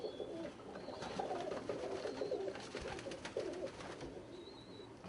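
Turner high performance roller pigeons in a breeder loft coo softly and repeatedly, low murmuring calls overlapping at a moderate distance, with occasional faint chirps above a quiet background.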